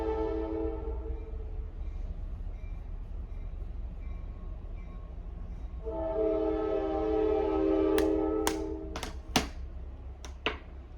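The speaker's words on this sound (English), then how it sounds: "enjoy the train honking" A train horn blasts from outside at moderate distance, a steady tone swelling through the middle of the clip, followed by several sharp clicks and taps nearby.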